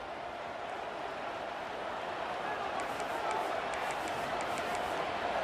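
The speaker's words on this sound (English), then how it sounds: "The crowd's kind of into it." Stadium crowd noise from the College Football 25 video game, a steady broad roar of cheering fans holding at a constant level throughout, with faint crisp clapping bursts appearing in the second half.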